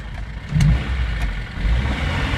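A car engine revs loudly while reversing out of a pit, in two swells of throttle over a steady mid-pitched running drone, close and without talk.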